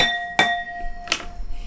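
A filler bell is struck twice, about three-quarters of a second apart. Each strike is a sharp, bright hit that rings on as a clear, sustained metallic tone. The bell is close and fairly loud.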